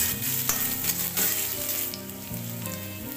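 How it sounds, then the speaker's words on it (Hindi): Potatoes lightly frying in a pan: a continuous close sizzle with stirring clatter and scrapes, moderately loud and alone. "आलू डालने के बाद इसे हम हल्का फ्राई करेंगे।"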